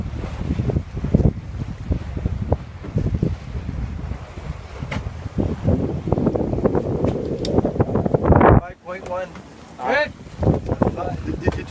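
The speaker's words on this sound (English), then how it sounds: "We got some good wind." Strong wind roars across a sailboat out on the water, a loud, continuous buffeting rush with the sound of the boat underway, while people talk over it.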